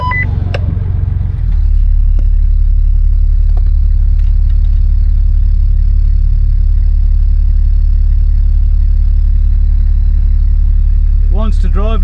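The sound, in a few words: Land Rover engine driving up steep hillside during winch recovery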